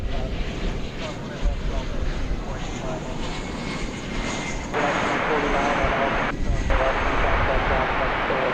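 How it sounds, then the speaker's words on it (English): An American Airlines Airbus A319 at DFW airport, its jet engines a loud continuous rumble that swells midway, with a person talking over the noise. "20th century Airbus A319 for American Airlines there."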